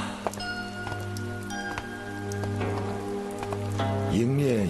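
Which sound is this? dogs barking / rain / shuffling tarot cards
rain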